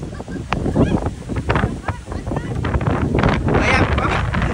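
Strong wind at a lighthouse on Guimaras buffets the microphone in loud, gusting roars, with rushing noise and voices talking over it throughout.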